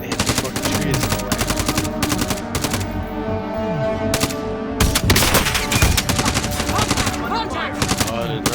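Rapid automatic gunfire in the video game Warzone: dense, loud bursts of shots in quick rhythm, pausing briefly and resuming several times over the whole stretch.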